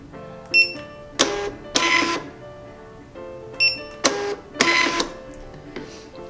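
Two rounds of barcode scanner beeps and short mechanical whirs as three barcodes of different symbologies are scanned, each round a quick sequence of electronic tones, clear and close with quiet gaps between.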